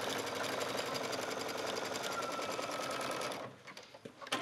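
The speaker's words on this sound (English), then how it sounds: "So I'm going to the machine, change it to a zigzag stitch, and just go back and forth." A sewing machine runs steadily for about three seconds, zigzag stitching back and forth over elastic, then stops, leaving a few soft handling clicks.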